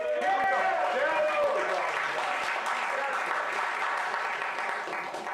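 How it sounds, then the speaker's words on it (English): A large audience at a pitch night event applauds steadily for several seconds, a dense wash of clapping with scattered cheers, tapering slightly toward the end. "a huge round of applause"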